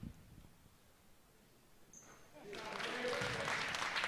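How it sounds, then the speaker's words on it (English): Crowd clapping at a high school boys varsity basketball game after a free throw, swelling from quiet to a sustained, moderately loud spread of applause in the gym. "A lot of clapping."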